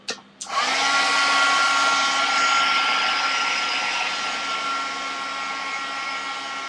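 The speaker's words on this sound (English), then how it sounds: "I hope my dry heat gun isn't too annoying." A heat gun blows continuously to dry a layer in an art journal, a loud steady whooshing roar starting after a brief click and holding nearly constant throughout.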